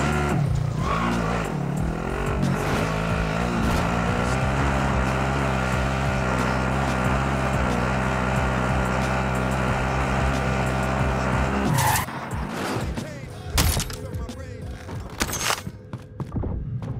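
A car driven in Call of Duty: Modern Warfare, its engine droning loud and steady with tire squeal and skidding, then cutting off abruptly into scattered bangs and clatter near the end.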